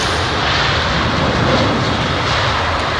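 A Boeing 747 arriving on runway 27R at London Heathrow, a steady broadband jet roar that stays loud and close for the whole stretch, with no voices.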